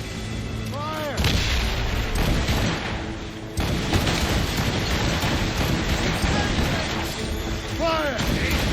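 Ship cannons fire in a naval battle in Assassin's Creed Rogue, with heavy booming volleys and rumbling blasts over a roaring sea-battle din, and a shouted voice breaking in.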